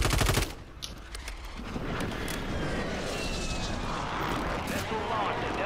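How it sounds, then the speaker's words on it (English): A friendly precision airstrike in a shooter game: an aircraft roars in after a brief burst of rapid gunfire, then a sustained engine drone with faint scattered cracks, under a spoken voice near the start. "Friendly precision airstrike inbound."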